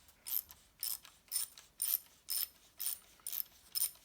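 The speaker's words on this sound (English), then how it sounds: "I just have a ratchet on there" A ratchet turns a Helicoil thread tap into soft aluminum on a Heiniger Extra clipper comb, giving about eight evenly spaced bursts of clicking, close and fairly faint, with no talking.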